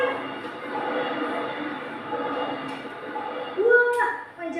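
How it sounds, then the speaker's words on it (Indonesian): A train rolls past at a steady, moderate distance, a continuous rumble with a brief higher tone near the end, while people talk over it. "Lihat, ada kereta api."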